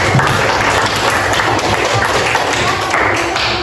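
Classroom audience clapping together in a university history teaching session, a dense, loud burst of many hands filling the room, steady for a few seconds with scattered taps and thuds mixed in.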